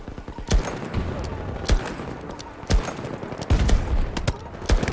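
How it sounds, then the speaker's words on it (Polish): Revolver gunfire in the video game Battlefield 2042: sharp, loud shots crack out at irregular intervals over a busy battle din, with no speech. "Jakby z rewolwera tyle strzałów trzeba walnąć?"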